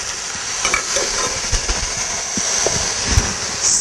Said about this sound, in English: we could just strain the potatoes here. As you see, the potatoes are still in shape. That's a must. It shouldn't get mashed up. Add in the potatoes here.